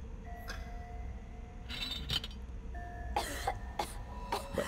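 Coughs from a character in the horror game DreadOut 2: a few short, rough bursts that come in a loose cluster over a low ambient hum, with no talking.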